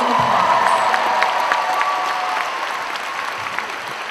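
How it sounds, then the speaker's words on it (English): A crowd at a Kukkiwon Taekwondo demonstration claps for a student who just earned his first degree black belt, sustained applause that slowly eases off, with a few scattered cheers. "So give Lee a round of applause."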